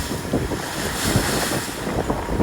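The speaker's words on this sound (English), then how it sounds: "and yeah, quite big seas coming over" Loud, continuous rush of wind and breaking sea surrounds a sailing boat in two-metre seas and gusts to 25 knots, with heavy surges and splashes of water washing over the boat.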